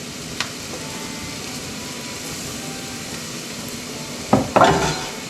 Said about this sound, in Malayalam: മഞ്ഞൾപ്പൊടി ഒന്ന് ആ ഒരു റോ ടേസ്റ്റ് പോകാൻ വേണ്ടിയിട്ട് ഒന്ന് നന്നായിട്ട് വഴറ്റുക ഉള്ളിയുടെ കൂടെ